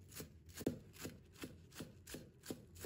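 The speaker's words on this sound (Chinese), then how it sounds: "葱叶切成葱花" A knife chops green onion leaves on a board, giving about seven evenly spaced, soft, close taps in a steady rhythm with no talking.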